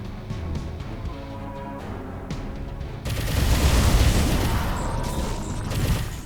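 Reflex cannon fire in the video game Overload, dense rapid blasts and booms that swell loudly after a quieter stretch of game sound and keep going to the end.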